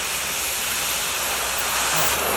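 DONMET 132 P Micro cutting torch flame-cutting thick steel plate, a loud, steady roaring hiss that holds unbroken throughout.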